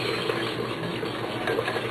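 Roast beef and potatoes being stirred in a pressure cooker pot, a soft steady scraping and sloshing under a constant hiss, quiet and continuous with no talking.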